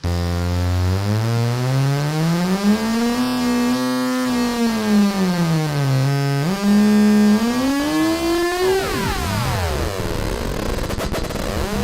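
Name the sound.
analog synthesizer oscillator heterodyning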